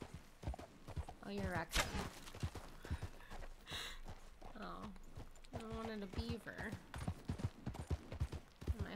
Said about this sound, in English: My horse keeps moving too fast.